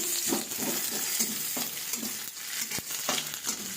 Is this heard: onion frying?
yes